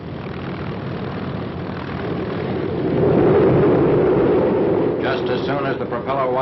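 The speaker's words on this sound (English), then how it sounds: "the next member of the carrier squadron leaves the forward runway" A propeller carrier plane takes off from the forward runway of an aircraft carrier's flight deck, a steady loud engine roar that swells midway, with a voice talking over it near the end.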